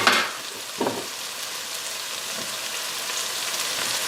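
A small onion and a shallot hitting a hot pan of browned mushrooms, a sharp hiss at the start and another burst soon after, then a steady, fine, rain-like sizzle continuing on its own.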